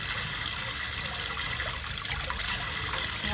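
Steady running tap water pours and splashes while squid is rinsed clean in a kitchen, a continuous close hiss and trickle with no voices.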